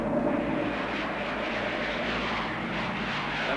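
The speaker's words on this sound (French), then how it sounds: "L'avion 417 a atterri." Airplane engine roaring steadily and loudly throughout, a continuous broadband drone of an aircraft on the ground at an airfield after landing.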